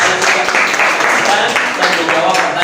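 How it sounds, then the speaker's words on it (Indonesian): A high-school classroom applauds a student group after its presentation, a dense, loud burst of many hands clapping together that holds steady for a few seconds. "Tepuk tangan untuk kelompok 4"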